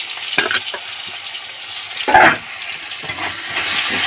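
Ginger paste, green chilli, tomato and vegetables fry in oil in a wok for shukto, with a close, loud sizzle and intermittent stirring scrapes.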